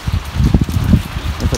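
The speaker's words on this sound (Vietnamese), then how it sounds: "Giọt mưa nó rơi vào camera." Rain falls outdoors around bonsai work, with drops pattering onto a camera in a dense, steady low patter of close, soft taps and brief rustles throughout.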